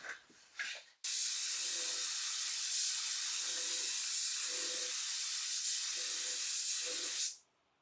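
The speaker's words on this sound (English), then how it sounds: "we're going to get to shoot the last coats of finish on it" A spray gun shoots the final coats of finish onto a mandolin, one loud, unbroken hiss lasting about six seconds that begins abruptly and fades at the end, with faint rhythmic low pulses beneath it.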